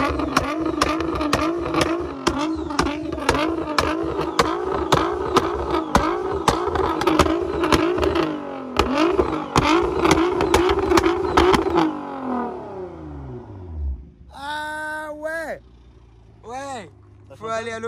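A 700 hp Nissan GT-R running on ethanol, revving hard and close with sharp rasping blips and crackles, then settling; people talk near the car throughout.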